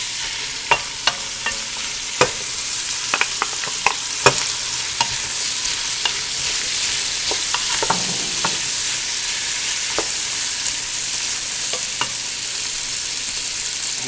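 Sausage, onion and pepper frying in a pan, with a steady, loud hiss of sizzling throughout and occasional light pops and spatters, with no talking.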